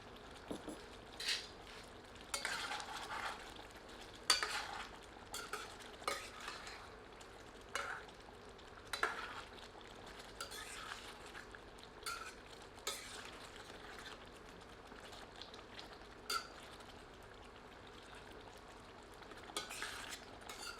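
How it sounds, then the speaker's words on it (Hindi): A spoon stirs crushed black pepper into a mutton curry in a pan, giving faint, intermittent scraping strokes and soft clinks spaced a second or two apart over a quiet background, with no talking. "अब इसमें कुटी हुई काली मिर्च सम्मिलित करके मिला देते हैं"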